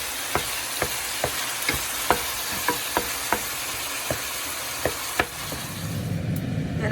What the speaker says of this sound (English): We're gonna add in our ground beef, lean ground beef. Break it down with your spoon.